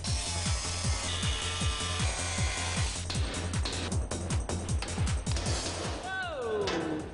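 A power tool cuts slices into a metal divider panel during a car build, its motor giving a steady rhythmic buzzing grind of repeated strokes, loud and close, with a rising whine near the end.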